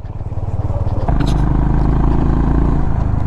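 Motorcycle engine ridden along a high mountain road in Upper Mustang, Nepal, its steady low drone jumping louder after the first second as the rider accelerates, then holding a constant near rumble to the end.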